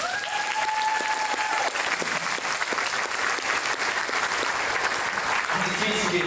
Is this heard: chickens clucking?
no